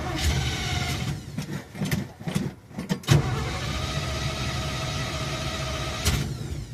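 Engine of an old truck cranking and firing up, several uneven starter bursts before it catches and settles into a steady rumbling idle, close and loud with no talk.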